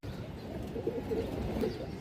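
Pigeons, including a female bird offered for sale, coo softly and faintly beneath a constant murmur of background noise, with a few brief low coos rising in the middle of the stretch.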